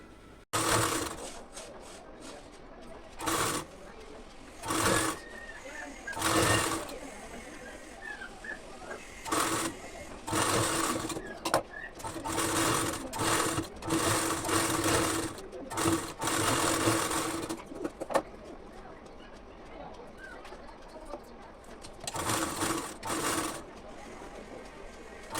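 A sewing machine stitches a one-inch waist belt onto a blouse, running in short bursts of rapid mechanical whirring separated by brief pauses, with light handling noises between runs.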